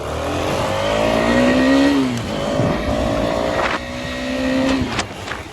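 A KTM Duke 250 motorcycle engine revs hard and climbs through the gears on an open road, each rise breaking off sharply before the next surge. The engine is loud and close, with no talking.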